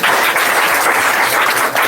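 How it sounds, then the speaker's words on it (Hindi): An audience at an evening gathering of students celebrating success in the BPSC teacher exam applauds, a dense, steady wash of clapping that holds at full loudness for the whole short stretch, with no one talking over it. "एक बार ताली बजाइए।"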